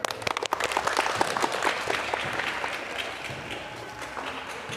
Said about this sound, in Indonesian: yuk kita tepuk tangan untuk kita semua